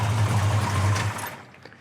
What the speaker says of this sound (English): I'm gonna go ahead and shut the engine down a minute.